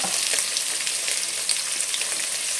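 Onion, green chilli and curry leaves sizzle in a pan for sweet pumpkin gojju, a steady, close, bright frying hiss that runs unbroken throughout with no talk.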